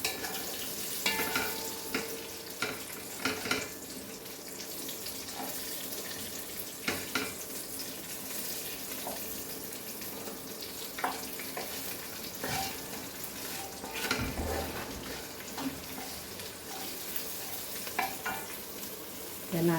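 Tiny chilies crackling and sizzling in hot oil in a pan for Goan coconut rice, a steady close frying hiss throughout with occasional stirring clinks and scrapes.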